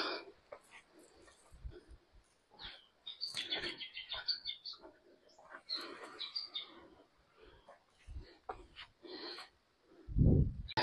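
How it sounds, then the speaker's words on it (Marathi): Birds chirp and twitter in a forest near the Siddheshwar temple in scattered bursts, fairly faint, with a low thump near the end. "तुम्हाला पक्ष्यांचा आवाज येत असेल"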